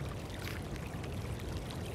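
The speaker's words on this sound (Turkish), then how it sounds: "Suyumuzu da dolduruyoruz." A water canteen being filled in the video game Winter Survival, a steady rushing pour that runs continuously and fairly loud for the whole moment.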